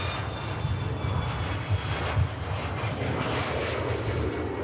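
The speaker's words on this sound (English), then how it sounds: "Mega shot there of the TAP Air Portugal, heading back out to Lisbon as Tom and Ann gift a membership" A TAP Air Portugal airliner departing Manchester Airport for Lisbon, its steady jet engine roar filling the air as a broad, constant rumble heard alone without talk.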